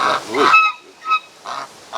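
A gander honks in a few loud, harsh calls spaced apart over two seconds, close by in a rural yard in the Chortkiv area of Ukraine, with no talking.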